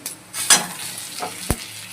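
Onions frying in a pan sizzle, with a few scraping and stirring clatters, close and fairly loud, over about two seconds.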